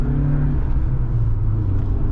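A 1994 BMW 318is E36 with a five-speed manual gearbox, its engine droning steadily from inside the cabin while driving, a loud, even low rumble with no pause.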